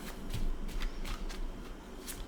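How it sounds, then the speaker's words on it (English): A deck of tarot cards is shuffled close up in several quick, papery riffling bursts over a soft room hush. "I'll do one more shuffle."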